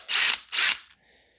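A DeWalt DCD703 12-volt brushless compact drill with an indexable head gives two short, loud whirring bursts close by, each under half a second, then a faint mechanical whine as it winds down.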